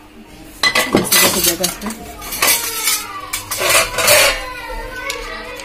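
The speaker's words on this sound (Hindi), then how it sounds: "मेरे सारे बर्तन धुल चुके थे, ये थोड़े से थे तो मैंने अभी धो के रखे हैं, इसको मैं टांग देती हूँ" Freshly washed steel dishes and utensils clinking and clattering as they are hung up in a home kitchen, a run of close metallic knocks and chimes in bursts, with a brief spoken word at the end.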